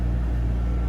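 A dental clinic's air compressor drones through an open window as a steady, low, continuous rumble with no breaks, filling the room at a moderate level.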